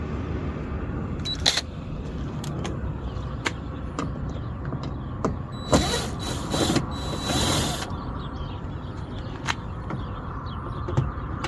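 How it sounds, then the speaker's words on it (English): Phillips screws being removed from a car door panel during a window regulator replacement, with faint mechanical clicks and ratcheting scrapes scattered through a quiet background and a longer rattling burst midway. "first we're going to do is to remove this Phillips screws"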